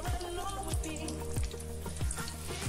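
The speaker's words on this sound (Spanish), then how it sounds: "ya le vamos a dar la segunda fritura" Chicken wings get their second fry in very hot oil, sizzling loudly and steadily up close with a dense crackle, while a regular low thump recurs about every half second underneath.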